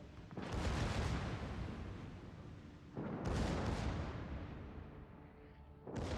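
The Goliath, a warship in World of Warships, fires high-explosive shells in heavy booming salvos, three deep rumbling blasts spaced a few seconds apart, each trailing off slowly, fairly quiet and alone.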